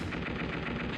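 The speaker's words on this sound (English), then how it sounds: "Explosion." Explosion effect from the Mega Man Legends 2 video game: a dense, rapid crackle of blasts in quick succession, loud and continuous for about a second, heard alone.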